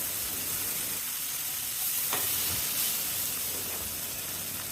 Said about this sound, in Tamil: தக்காளி ரொம்ப குழைய வேண்டாம், இந்த அளவுக்கு வதங்கினாலே போதும்.